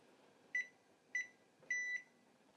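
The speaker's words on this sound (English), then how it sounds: "Set my timer for 1 minute and then reassess." A kitchen timer set during cookie baking gives three short, crisp electronic beeps, the last held slightly longer, close by against a quiet room hum.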